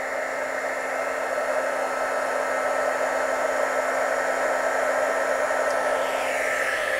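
A heat gun blows a steady, constant stream of hot air onto heat shrink tubing, a smooth, even whoosh that holds close and loud for the whole stretch, alone with no talk.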